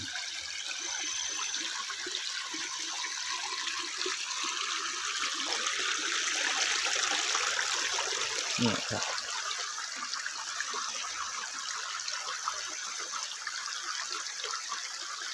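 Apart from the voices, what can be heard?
small stream of water flowing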